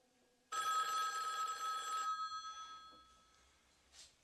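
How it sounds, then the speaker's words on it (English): A telephone bell in a horror film rings with a bright metallic trill for about a second and a half, then fades into quieter ringing with a faint later ring. It is heard alone. "Cal receives another phone call from LT asking him to come to his house"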